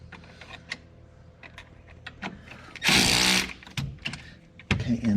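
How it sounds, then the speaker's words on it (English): Bolts are tightened on a Yamaha YXZ CrawlForce crawl box: scattered clicks and taps from the tool, then a short burst of loud powered driving, followed by more clicking and a second brief burst. "now you can go ahead and tighten them all up"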